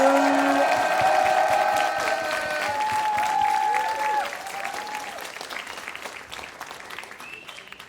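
A studio audience applauds and cheers to welcome a talk-show guest, loud and dense at first with whoops and tonal voices, then thinning out into scattered claps as it fades toward the end.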